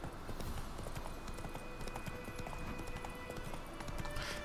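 Continuous hoofbeats clip-clop at a steady trot amid a busy, dense background, with no voices on top, from a horse in the video game The Witcher 3: Wild Hunt.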